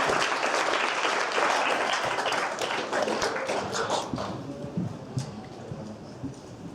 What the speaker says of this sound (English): Should we give a warm round of applause for Team Hyper?